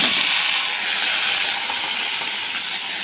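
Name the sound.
paneer frying in oil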